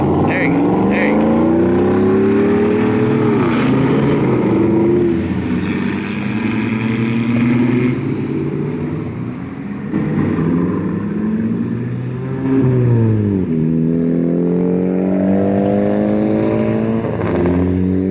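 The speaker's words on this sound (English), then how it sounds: "it's got a loud muffler on it, so let's see how fast he takes off whenever the light does" A truck with a loud muffler pulls away from a traffic light, its engine rising and falling through several revving gear changes, loud and close.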